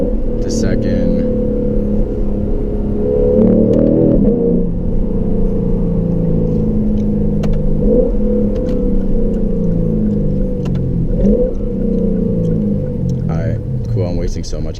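A Lexus RC F heard from inside the cabin, engine and piped-in intake droning low and loud while accelerating past 4,000 RPM, the pitch swelling in several pulls as someone talks over it.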